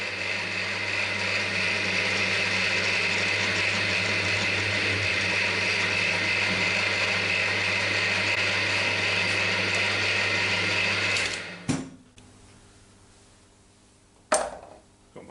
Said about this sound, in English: Just countersink that.